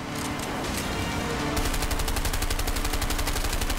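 Gunfire aimed at a car engine in the video game A Way Out: a steady, loud stream of rapid automatic shots, intensifying partway through and continuing without voices.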